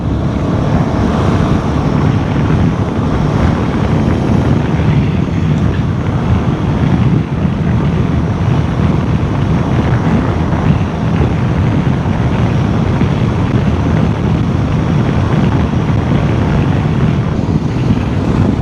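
A vehicle driving along a road in the Jawadhu Hills, with a steady, loud rush of wind noise and engine rumble that continues without letup and no voices.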